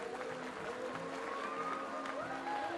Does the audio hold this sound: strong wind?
no